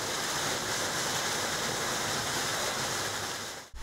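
Water gushes from broken water meters at a housing complex in Zapopan, flooding the street, a loud continuous rushing roar that cuts off abruptly at the end.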